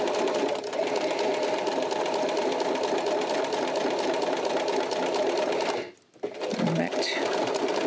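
A sewing machine stitches a coin purse seam at a wider seam allowance in a steady, fast, continuous whir close by, stopping briefly near the end before running again.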